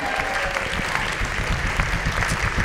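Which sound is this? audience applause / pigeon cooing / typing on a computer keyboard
audience applause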